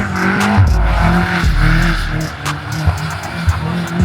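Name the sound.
BMW M8 Competition drifting sideways in snow, tires squealing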